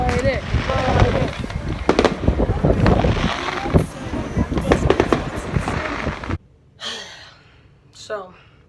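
Big fireworks go off close by in a dense, rapid barrage of loud bangs and crackles for several seconds, then stop abruptly, leaving quiet with a few soft voices.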